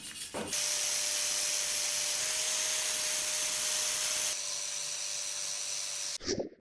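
Welded metal surfaces of a homemade stove are smoothed with a steady, harsh abrasive hiss that runs continuously for about six seconds, drops slightly in level partway through, then cuts off with a short clunk.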